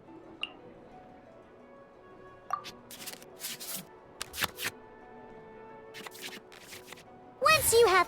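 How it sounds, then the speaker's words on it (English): Soft card shuffles and ticks from the Genshin Impact card game as cards return to the draw pile: scattered quiet clicks and swishes, then a louder shuffling burst at the end, under a person's voice. "we can select any number of cards in our hand to shuffle back into the draw pile"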